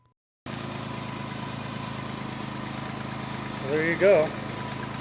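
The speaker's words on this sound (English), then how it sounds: "It's running right now. The engine's turning." A Jeep JK engine idles with a steady, even rumble close by, and a voice speaks briefly near the end.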